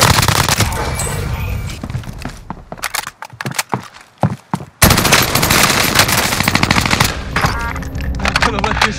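Gunfire in the Call of Duty: Modern Warfare video game, with dense, loud automatic bursts that briefly break into scattered shots before resuming heavily, and shouting voices mixed in.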